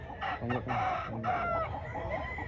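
A stag rooster crows and clucks nearby at a poultry expo in Mantalungon, Barili, Cebu, several harmonic calls in quick succession, fairly loud and clear.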